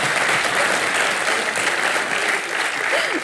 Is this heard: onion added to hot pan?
no